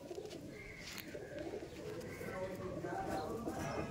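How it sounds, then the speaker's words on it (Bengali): A Madrasi pigeon coos softly and repeatedly at close range, its low calls running under nearby talk. "এই যে পায়রা দেখছেন না"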